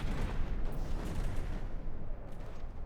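Mortar shells land in a battleship battle in From the Depths, a heavy, continuous rumble of distant booms and blasts rolling on without pause and with no talking.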